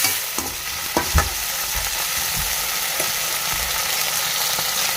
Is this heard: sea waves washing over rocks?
no